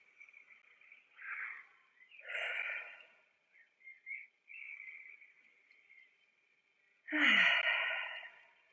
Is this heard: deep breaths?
yes